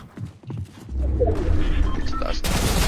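Gunfire bursts out in a rapid fusillade of close shots, starting with a few sharp cracks and building into dense, continuous firing.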